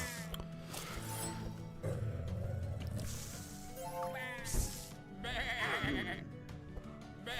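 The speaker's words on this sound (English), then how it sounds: "The sheep are coming at us." Sheep bleat loudly in a video game as they charge, with several drawn-out, wavering cries spread across the stretch, mixed with crashes and busy game noise.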